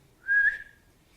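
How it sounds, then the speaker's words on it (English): A single short whistle from a person in a meeting room, one clear rising tone lasting about a third of a second, close and fairly loud against near silence. "I don't know why I whistled."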